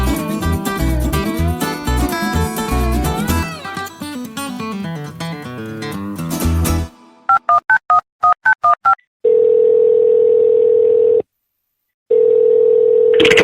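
A telephone in a radio drama sounds a run of quick dialing beeps, then long steady call tones broken by a brief silence, loud and close with no voices.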